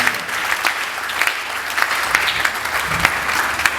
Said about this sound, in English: I want all of us to give him a wonderful round of applause